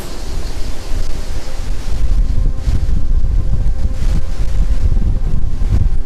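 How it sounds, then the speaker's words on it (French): Strong wind buffets the microphone in a constant loud, low rumbling roar with gusty surges, no voices. "Il y a un sacré vent."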